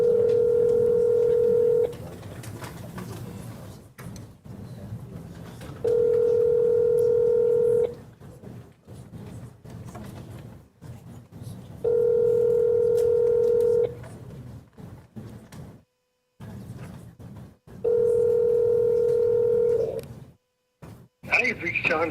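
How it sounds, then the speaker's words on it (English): A telephone call rings out on the line: four evenly spaced, loud tonal bursts about two seconds long with roughly four-second gaps, with quieter line noise and brief talk in between. "let me try this last number. See if we can just get somebody on the phone today."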